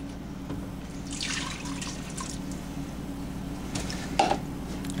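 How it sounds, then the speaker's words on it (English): Milk is poured into a pan while making SOS, creamed chipped beef gravy, a soft, quiet liquid trickle over a low background hum, with a brief splash near the end. "You're going to pour you in 2 cups of milk."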